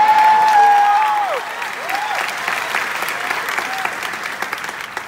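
Jazz concert audience bursts into loud, sustained applause with cheering, dense clapping filling the hall and fading slightly after the first second while continuing steadily.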